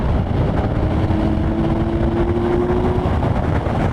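2020 Kawasaki Ninja 1000SX accelerating under throttle: loud, continuous rushing engine and wind noise with a rising tonal whine mid-way, close and steady.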